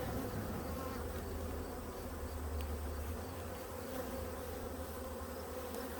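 Honeybees swarm around Hive #3 during a late-August inspection, with many drones among them. A dense, steady buzzing fills the whole stretch, close and unbroken, with no talking.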